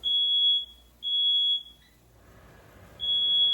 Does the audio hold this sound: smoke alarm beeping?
yes